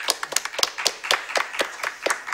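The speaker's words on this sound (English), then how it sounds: "Round of applause for you." A few people clap after a talk at an academic workshop, a sparse run of distinct, fairly close hand claps with an uneven rhythm.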